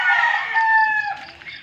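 A rooster crows once, loud and close, on a small farm, with faint chicken clucking trailing off after the call ends.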